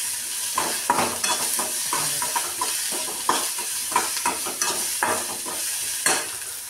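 Food being sautéed in a pan with turmeric, a steady sizzle broken by repeated scraping stirs of a spoon against the metal, close and fairly loud with no voices.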